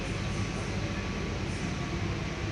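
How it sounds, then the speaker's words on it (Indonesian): Serayu passenger train pulling into Kroya station in Indonesia, a steady, loud rumble of rolling rail cars with a faint high whine, continuous and close throughout with no talk. "Kereta api Serayu masuk stasiun Kroya,"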